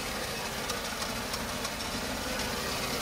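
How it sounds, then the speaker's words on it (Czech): A car engine idles steadily right after a cold start, giving a close, continuous mechanical hum with a slight knocking, rattling texture and faint irregular ticks throughout. No one speaks. "Start za mě naprosto bez problémů."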